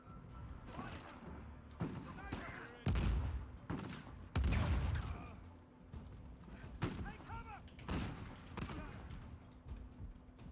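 Revolver shots and other gunfire crack out in the video game Uncharted, several spaced, fairly faint bursts mixed with thuds and a voice talking over them.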